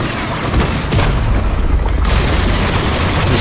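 In a video game, heavy booming gunfire fills the stretch, loud and dense, with blasts rolling into one another over continuous rumbling noise.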